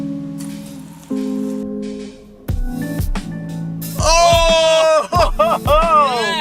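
Water is sprayed onto the windscreen of a 2003 Mercedes C270 wagon to trigger its rain-sensing wipers, pattering close by with a low mechanical hum, and excited voices exclaim over the latter half.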